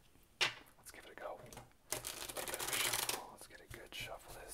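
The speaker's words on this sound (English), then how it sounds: "Get a good shuffle this time. Alright, a little bit of a shuffle." Solitaire card shuffle sounds from a game, a quick rapid riffle followed by a longer dense burst of flicking and shuffling, close and fairly loud, with soft talking around it.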